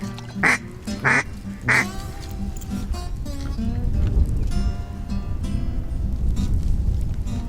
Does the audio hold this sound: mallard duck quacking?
yes